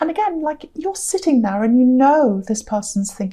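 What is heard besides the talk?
None of the usual background noises is heard.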